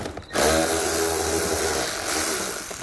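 A power driver fitted with a Phillips bit runs steadily, backing screws out of a mud flap fastener on a 2018 Ram ProMaster, with a close, continuous motor whine after a brief quiet start.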